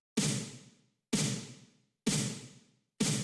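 Second free snare sample layered in an EDM track, a noisy, bright clap-like snare struck four times at an even one-second pace, each hit with a longer washy tail fading out before the next.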